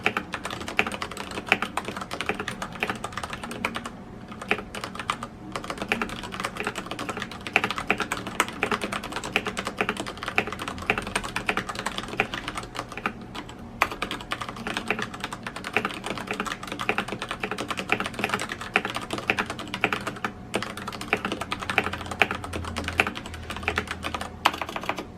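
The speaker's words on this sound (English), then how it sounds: "here's what the keyboard sounds like" Steady typing on a Tesoro Durandal mechanical keyboard with MX Brown switches, a dense run of close, crisp key clicks and clacks continuing for about twenty-five seconds, briefly pausing a few times, with no talking.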